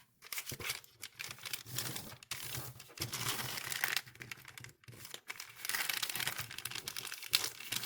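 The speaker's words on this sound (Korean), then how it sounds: "종이를 반으로 접고 한 번 더 접어주세요." Paper cut from an envelope being folded in half and then folded again, heard as close, continuous crinkling and crisp creasing rustles with a few short pauses between folds.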